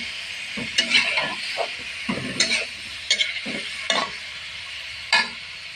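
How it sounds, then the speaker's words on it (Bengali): Plantain pieces being stirred while frying in a pan with a little water added, a soft steady sizzle broken by several distinct scraping stirs at irregular intervals. "এইভাবে কিছু সময় কলাটা নাড়তে হবে।"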